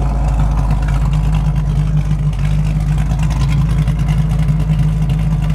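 A 1968 Chevrolet Camaro SS with a ZZ502 big-block V8 idles in cold weather without the choke, a loud, deep, steady rumble with a lumpy throb, close by and continuous.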